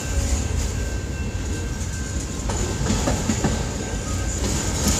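Long train passing close by with steady rail rumble and rhythmic clickety-clack of wheels over joints, loud and continuous throughout.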